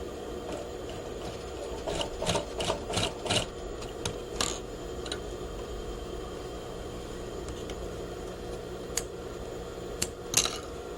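A sewing machine stitches fabric strips into a triangle for a pocket, with a quick burst of close, rapid mechanical clicks and rasps, then sparse, isolated ticks and a louder click near the end over a quiet background.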